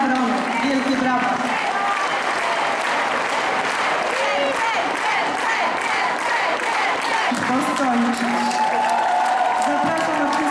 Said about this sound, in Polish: Wielkie, wielkie brawa dla wszystkich artystów